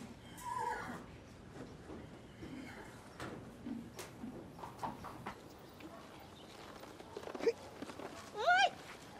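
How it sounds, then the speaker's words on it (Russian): A horse belonging to a daughter whinnies close by with several high, wavering neighs toward the end, amid soft hoof shuffling and quiet outdoor ambience. "Это лошадь вашей дочери."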